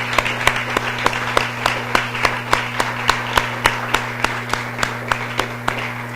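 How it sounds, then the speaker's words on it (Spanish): A church audience claps in unison with an even, rhythmic beat of crisp claps repeating about three times a second, over a sustained low droning tone. "Démosle un aplauso al Señor."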